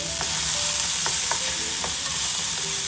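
Vegetables for masala bread fry in oil in a pan with a constant close sizzle. Faint taps from a stirring spoon break through now and then.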